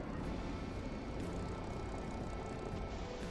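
A P-51 piston engine droning in DCS World, a loud, steady broadband roar with a rumbling low end that holds constant throughout, no talk over it.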